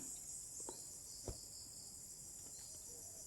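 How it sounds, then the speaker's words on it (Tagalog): Insects chirp steadily outdoors on an afternoon, a continuous high shrill drone holding throughout with a brief thump in the middle, fairly faint overall and with no talking. "insekto eh dami mga insekto talaga dito"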